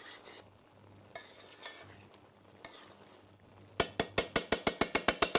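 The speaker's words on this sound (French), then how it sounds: "à chaque fois, je racle un peu parce qu'on a tout les bons sucres de cuisson, en fait, qui sont dans le fond" A pan bottom being scraped while cream and onions are stirred, with soft irregular scraping strokes followed by a rapid, regular series of about a dozen sharp metallic taps, close and clear.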